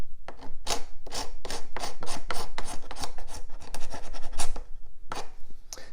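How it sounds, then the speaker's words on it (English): A paint scraper rasps dried glue globs and old finish off a wooden furniture joint, with quick, repeated scratchy strokes in a steady rhythm, close and loud, and no talking. "to clean off the joint here, I use a paint scraper"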